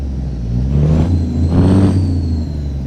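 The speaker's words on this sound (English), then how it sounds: "a lot more of that fan sound, a lot more of that whooshing turbo sound, especially under the bridge" A Cummins N14 diesel truck engine hums nearby while a rising turbo whoosh swells twice over a steady fan whir, with a faint high whine above, under a bridge.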